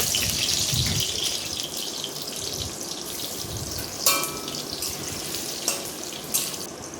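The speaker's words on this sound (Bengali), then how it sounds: "কড়াইতে আগে থেকেই নুন দিয়ে ভাপিয়ে রাখা আলুগুলো আমি লাল লাল করে একে একে ভেজে নেব" Parboiled, salted potatoes fry in oil in a kadai with a steady moderate sizzle, broken by a few brief clinks and scrapes.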